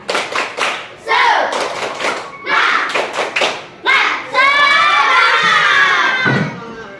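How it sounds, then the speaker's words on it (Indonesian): A group of schoolchildren in a classroom performs a rhythmic spirit clap, sharp bursts of patterned hand claps alternating with loud chanted shouts, ending in a long excited cheer, close and energetic. "Tepuk semangat."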